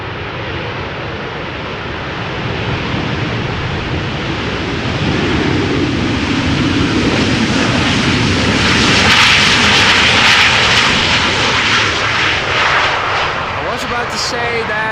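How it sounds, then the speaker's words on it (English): A Ryanair airliner lands at Amsterdam Schiphol in gusty crosswind, its broad jet roar building steadily and peaking mid-way as thrust reversers come on, then easing slightly, loud and continuous without talk. "they also sometimes use their reversers, which makes for some nice audio"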